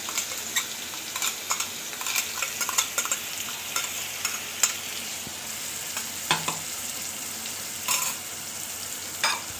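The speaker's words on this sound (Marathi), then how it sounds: "आता त्या तेलामध्ये आपण ही मिरची टाकणार आहे" Whole green chillies frying in hot oil in a kadhai for spicy batata vada, a steady close hiss of sizzling with scattered crackles and pops throughout, no speech.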